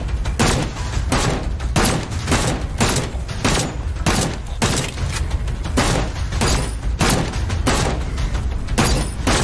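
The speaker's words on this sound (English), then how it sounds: "I'm going to shoot these guys." Rapid, evenly spaced gunshots ring out in the VR shooter Seeking Dawn, a loud, sustained burst of sharp cracks repeating roughly every half second for the whole stretch, with no voices.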